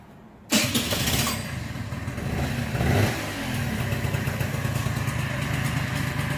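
A Honda Elite 50S scooter engine catches abruptly after a short quiet moment, then settles into a steady, close buzzing idle with a brief swell in revs midway.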